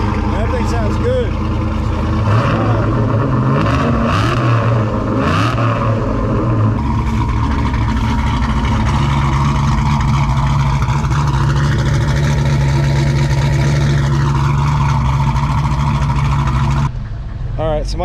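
A 1985 Ford Mustang fox body hatchback idles with a deep, loud exhaust rumble that swells briefly with a few revs, while people talk over the engine.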